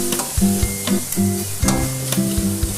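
Holy basil leaves tossed with minced pork in a hot pan for an old-style Thai pad kra pao sizzle under repeated rhythmic clanks and scrapes of a spatula against metal, close and lively.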